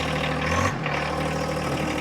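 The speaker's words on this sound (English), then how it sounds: "I will go ahead, fire this tractor up." A 2019 John Deere 1025R sub-compact tractor's diesel engine catches and settles into a steady, close-up idle, a continuous low rumble with a brief dip as it starts.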